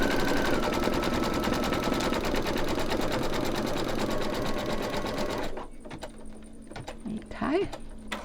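An embroidery machine stitches a bicycle-with-hearts design in a rapid, loud, regular mechanical chatter for about five seconds, then stops, leaving quieter handling clicks and a brief voice.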